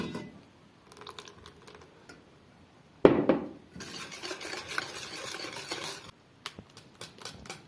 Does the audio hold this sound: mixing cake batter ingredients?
yes